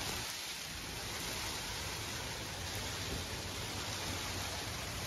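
Steady rain falls during a severe thunderstorm as a dense, even hiss of broadband noise, constant and fairly faint throughout, with no voices or distinct thunderclaps.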